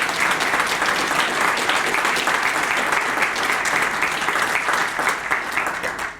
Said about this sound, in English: we can give them a round of applause for all the work that they've done thus far